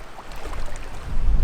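Water swirls and splashes as someone wades across the deep Hope River in New Zealand, soft and close at first, then growing louder toward the end with no talking.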